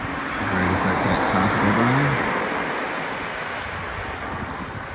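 A car passes by on a quiet road near a graveyard, its broad rushing noise swelling to a peak and then fading away under wind, with a voice speaking briefly at the start.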